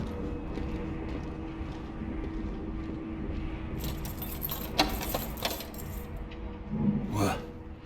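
Keys jangle in a Dishonored 2 game scene, a bright metallic rattle that rises around the middle and again near the end, over a steady low ambient hum with no talk.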